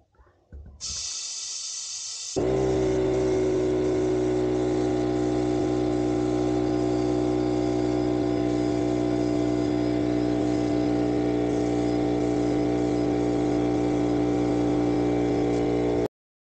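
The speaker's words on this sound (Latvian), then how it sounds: "un tāpēc es pumpēšu šo izplešanās trauku tieši ar šo kompresoru." An air compressor kicks on after a brief hiss and runs with a loud, steady mechanical drone throughout while pumping air into a hot water expansion tank.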